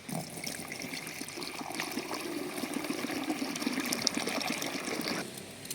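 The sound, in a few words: pouring Trichoderma viride solution into a sprayer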